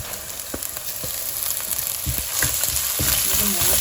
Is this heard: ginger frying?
yes